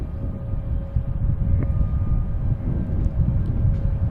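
A Boeing airliner at Boston Logan Airport gives off a steady, loud rumble of jet engine noise with a faint constant whine, heard from a distance at an outdoor plane-spotting spot.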